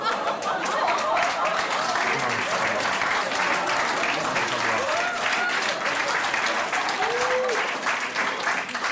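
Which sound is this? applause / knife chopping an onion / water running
applause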